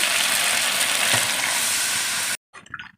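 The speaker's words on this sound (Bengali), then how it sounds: "এবার এর মধ্যে আমি জল দিয়ে দেবো" Water is poured into a hot pan of fish, potato and papaya curry, setting off a loud, steady hissing sizzle that cuts off abruptly, followed by a few faint stirring clatters.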